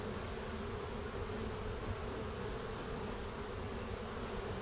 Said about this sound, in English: A ton of bees.